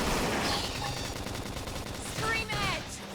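Xenoblade Chronicles X combat: rapid bursts of gunfire crackle through a dense wash of battle noise, with brief whistling tones near the end.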